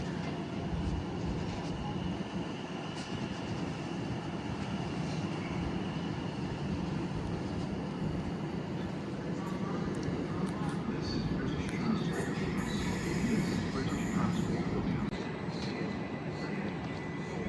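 Class 701 unit 701 022 departs Clapham Junction bound for Guildford with a steady rumble and motor hum that holds throughout, faint voices and station noise mixed underneath.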